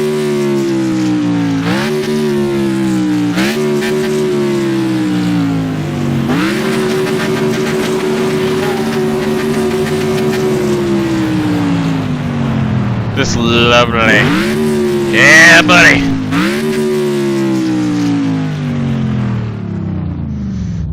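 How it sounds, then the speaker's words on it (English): A video game's American muscle car engine revved in neutral, repeated rising and falling throaty revs with long held notes, loud and close, while someone talks briefly over it. "Listen to this car, this American Muscle."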